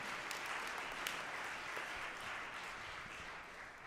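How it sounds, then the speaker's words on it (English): A church concert audience and choir give a round of applause, a quiet, even wash of clapping heard from a distance in a large room. "Give yourselves a round of applause."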